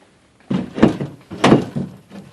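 A pry claw tool is positioned against a steel door, giving a few dull metallic thunks and knocks, each a short, close impact separated by brief gaps.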